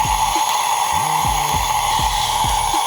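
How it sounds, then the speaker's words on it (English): An ultrasonic infusion machine runs during cocktail making, giving off a steady, even high-pitched whine and hum with a faint voice beneath it. "we have this little machine that we call it ultrasonic machine"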